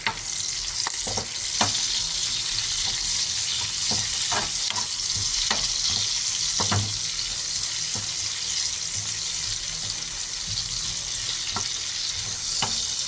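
Onions sizzle loudly in a hot pan for a meat-based monggo topping, a constant bright frying hiss with intermittent knocks and scrapes of a spatula stirring, no voices.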